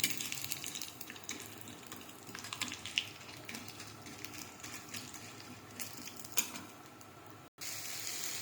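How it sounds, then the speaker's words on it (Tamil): Orange peels sauté with mustard seeds and chana dal lentils in a pan, giving a steady soft sizzle with occasional brighter crackles and stirring scrapes throughout, no voices. "ஆரஞ்சு பழ தோல்களை சேர்த்து நல்லா வதக்கணும்"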